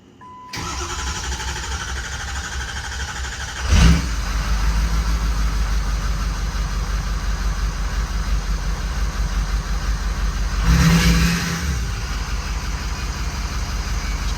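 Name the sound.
6.0 Powerstroke diesel truck engine running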